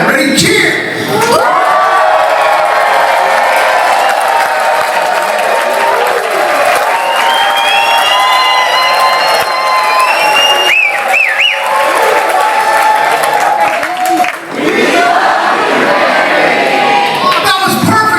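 A large gala audience cheers and shouts together in unison, loud and close, with whoops and scattered clapping, dipping briefly before swelling again.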